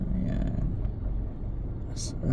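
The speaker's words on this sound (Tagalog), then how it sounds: "Papacheck ko tong ingay ng sasakyan." City traffic rumbles low and steady from passing vehicles near a highway, with a brief hiss near the end.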